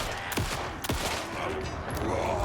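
Gunfire in the video game Alan Wake 2: two sharp, loud shots about half a second apart, then fainter bursts over a dense, noisy game soundscape.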